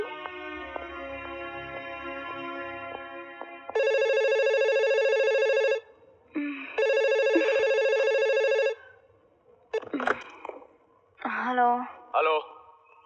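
A telephone rings in repeated electronic bursts: a buzzy tone first, then two loud steady ringing bursts with a pause between, followed by people talking.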